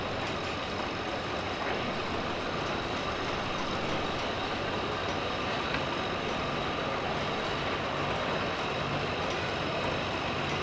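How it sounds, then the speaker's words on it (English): A small antique BN tractor dragging a heavy iron sled at a vintage tractor pull, its engine a dense, steady roar mixed with broad mechanical noise, loud and unbroken throughout with no talk. "That is a pretty small tractor to be hooked onto that big a piece of iron."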